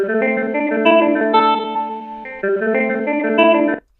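Warped, time-stretched audio with sustained tonal layers carries a smeared, chorus-like shimmer and unnatural artifacts, playing steadily with a brief dip midway before cutting off near the end.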